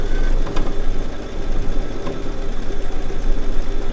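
A Baby Lock sewing machine stitches edge-to-edge quilting over earlier hand quilting, producing a loud, steady, fast mechanical whir with rapid needle pulses up close and no talking.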